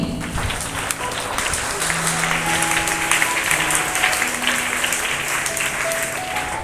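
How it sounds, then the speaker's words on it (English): A school assembly audience applauds the prize winners in a steady, dense wash of clapping that holds throughout, with a few faint tonal sounds and murmurs mixed underneath. "let's celebrate all our lucky winners by a huge round of applause"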